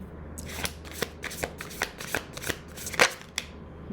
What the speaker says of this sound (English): I'll try one more shuffle